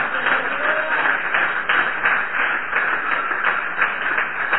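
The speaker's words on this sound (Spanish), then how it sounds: "Denle un aplauso al Señor en esta tarde" A church congregation applauding during a Sunday service gives steady, rhythmic clapping from many hands that is muffled and fairly loud, with a voice speaking over it.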